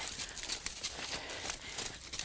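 A horse moves around its handler on the ground during a groundwork exercise for a young horse, with hoof clip-clops and shuffling steps heard close by throughout a short stretch.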